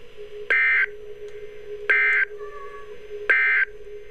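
Three loud, identical electronic alert bursts sound at regular intervals, each a harsh two-tone buzz lasting about a third of a second, with a faint tone between; a malfunctioning Emergency Alert System NOAA weekly test.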